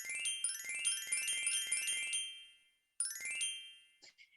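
Bright, tinkling star chimes from a sensory fish app, ringing in quick repeated sparkly runs for a couple of seconds, a short pause, then another burst and a few scattered tings, heard alone at low volume.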